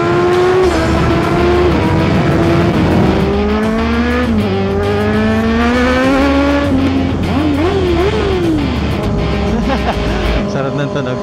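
A 2024 Kawasaki ZX6R motorcycle screams loudly up and down through its revs, engine pitch climbing and falling in close, sustained pulls with some road and wind noise, and a voice is briefly heard over it.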